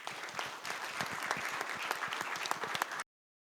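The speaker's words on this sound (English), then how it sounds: "Let's give these guys one last round of applause." Applause for high school baseball players at a college signing ceremony, a small crowd clapping steadily with distinct individual claps for about three seconds before cutting off abruptly.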